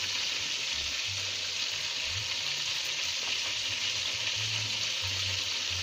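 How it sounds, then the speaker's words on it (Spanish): Chicken pieces sizzle and fry steadily in a hot pan as the dish is seasoned for fried chicken in green sauce, a dense continuous crackle with faint low hum beneath and no voices. "Le voy a echar el pollo ya todo para que se vaya sazonando."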